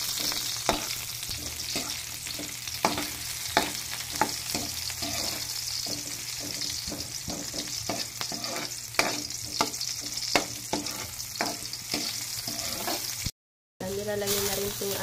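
Chopped onions sizzle in a hot pan, a dense steady hiss broken by frequent sharp scrapes and taps of a stirring utensil, with a brief gap near the end.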